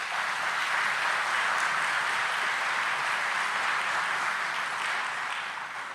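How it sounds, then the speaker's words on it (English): A crowd at an outdoor groundbreaking ceremony for a port of entry gives a sustained round of applause, dense steady clapping that holds for several seconds before starting to fade. "please give her a round of applause"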